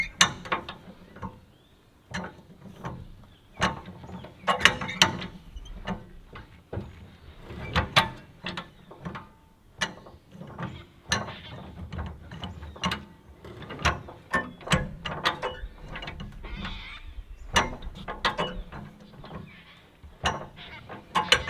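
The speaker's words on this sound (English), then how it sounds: "Hit the reversing latch on the high lift." A high lift jack ratchets down after its reversing latch is flipped, giving a close, steady series of sharp metallic clicks and clunks for about twenty seconds with no talking.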